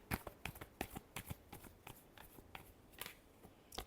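Tarot cards are shuffled by hand in quick, crisp riffles and taps, close and fairly quiet, with no talking.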